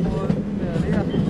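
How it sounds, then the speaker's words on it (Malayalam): A train crossing a bridge, heard from on board as a steady low rumble with faint rhythmic clatter, close and continuous for a brief moment. "നമ്മളെ ട്രെയിൻ ഇങ്ങനെ പോവാണ്"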